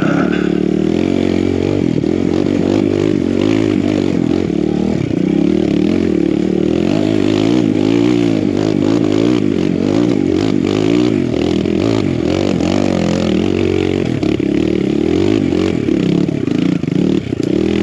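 Kawasaki KLX170RF dirt bike climbing a loose hill, its engine revving hard and near throughout with fluctuating pitch, gravel scraping and clattering beneath.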